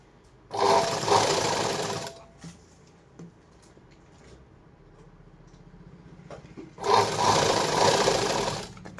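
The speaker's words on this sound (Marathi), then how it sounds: "आता एक कंटिन्यू पूर्ण अशीच याला शिलाई मारून घ्यायची" An electric sewing machine stitches a blouse with four tucks in two loud, steady whirring runs, separated by a quieter pause with faint handling noises.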